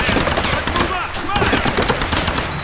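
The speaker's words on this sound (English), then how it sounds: "That was 3 shotgun blasts to the upper torso" Rapid shotgun blasts ring out in the Tomb Raider video game, a dense burst of sharp, loud reports packed close together with no pause.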